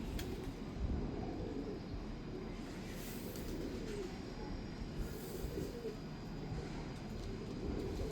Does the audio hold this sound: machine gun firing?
no